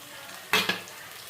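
Onions and ivy gourd sautéing in oil in a pan, with a steady soft sizzle broken by two quick, louder stirring scrapes close by.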